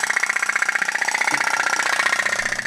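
An old Japanese-made putt-putt steam toy boat engine running, a rapid, steady, even pulsing putter heard close up and continuous throughout, with no talk.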